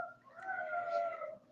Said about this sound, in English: If they howl, the dog howls.